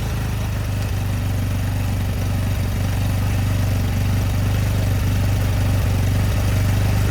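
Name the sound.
quad ATV engine running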